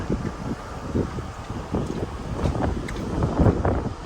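Strong wind buffets the open deck of the moving MSC Meraviglia cruise ship, a loud, gusty rumble pressing on the microphone in uneven surges that build stronger toward the end.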